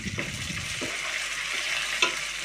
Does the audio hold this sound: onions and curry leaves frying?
yes